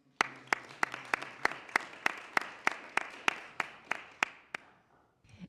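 At a school board meeting, a single person claps about fifteen times in a slow, steady rhythm, sharp and close, with the claps fading out near the end.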